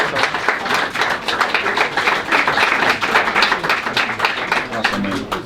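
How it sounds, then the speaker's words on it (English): Rapid, dense clapping from an audience at a Gillingham Football Club player of the year awards night fills the room, a steady crowd roar of hands that carries on loud and unbroken. "A big round of applause for Tony and for Jack Tucker also."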